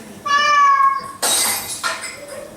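A comedy performer's voice imitates a cat, giving a loud drawn-out meow, then mimics things being knocked off with a sudden crashing burst and a smaller clatter after it.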